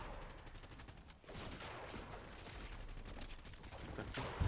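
Gunfire in a competitive solo Fortnite match: a dense, continuous spray of rapid shots and crackling impacts lasting several seconds, growing louder toward the end, with no clear talking over it.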